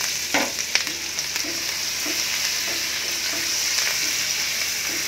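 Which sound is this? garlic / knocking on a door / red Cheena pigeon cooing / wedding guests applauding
garlic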